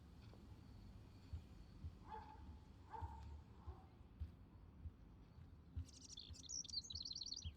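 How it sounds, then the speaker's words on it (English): A bird chirps in the video game Life is Strange Remastered, a rapid burst of high tweets near the end after a few softer calls, over a faint, quiet background. "can you help me get this bird out of here?"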